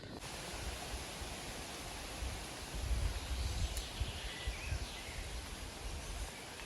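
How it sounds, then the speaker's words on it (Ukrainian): Broad, steady rushing of wind through forest trees after rain, swelling a little in the middle, with no voices. "Гамірно, дуже гамірно в лісі. Вітер але дощ зупинився."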